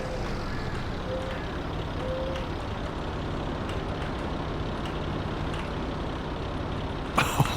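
A heavy truck rumbles steadily in a farming simulation game on hard economy, its engine droning throughout until a sharp hiss of air brakes bursts out near the end.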